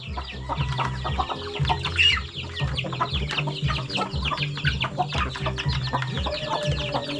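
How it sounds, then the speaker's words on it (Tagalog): Hens cluck steadily and overlapping, close by, with a busy flock chattering throughout and no talking. "mga inahin natin, mga malaki."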